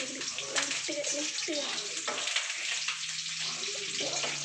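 Mustard seeds frying in hot oil for lemon rice, giving a steady, close crackling sizzle with small pops throughout and a faint voice in the background.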